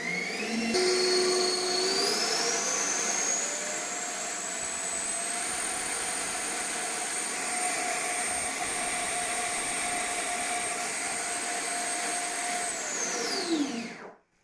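A 3D printed RC jet's electric ducted fan on a 6S lipo throttles up from idle to a loud, steady high-pitched whine that rises in pitch, holds, then spools down abruptly at the end.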